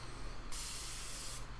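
Setting spray misting from an aerosol can in one steady, close burst lasting about a second, with broad hiss between quieter moments at the start and end.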